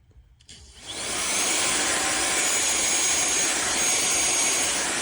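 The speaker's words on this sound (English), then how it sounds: "when you turn on the vacuum, you can feel the motor spinning" An INTETURE 550W cordless stick vacuum cleaner switches on, its motor spinning up over about a second into a loud, steady, high-pitched whine with broad airflow rush that holds constant.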